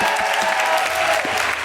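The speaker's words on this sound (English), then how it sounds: "Big round of applause for Amrit and the boys." Brief burst of audience clapping and cheering at a live comedy podcast show, dense and close, with a faint steady hum underneath, over in under two seconds.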